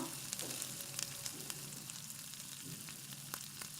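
Cumin and mustard seeds fry in oil with onion and garlic for a dry jhunka, giving a steady close sizzle broken by sharp, scattered crackles and pops.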